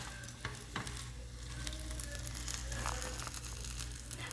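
Shawarma frying in a pan, a steady close sizzle with scattered crackles and stirring scrapes throughout, no talking.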